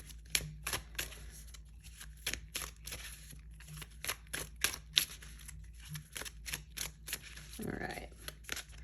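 Tarot cards being shuffled in rapid, crisp riffling snaps, close and fairly quiet, repeating in a steady rhythm with a soft low room hum underneath.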